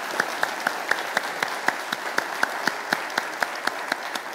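Scattered hand claps ring out at a quick, regular pace at a church worship service, against a quiet room, fairly faint and sparse rather than a full ovation.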